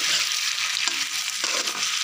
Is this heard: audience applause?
no